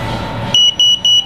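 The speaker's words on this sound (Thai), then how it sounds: "มีสัญญาณเตือนจากกล้องครับเป็นการยืนยันเรียบร้อยว่ารีโมทตัวนี้ ได้ทำการเชื่อมต่อกับกล้อง" After a stretch of low hum, a camera gives three sharp, loud electronic beeps in a steady rhythm, close by, confirming connection to a remote control.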